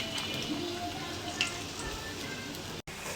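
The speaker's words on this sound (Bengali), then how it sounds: "এইদিকে আমি কড়াইতে তেল দিয়ে দিয়েছি, এখন আমি পেঁয়াজগুলো দিয়ে দিব।" Onions sizzle in hot oil in a wok for a fish bhuna, giving a steady, soft crackling hiss with a few faint ticks and no voices.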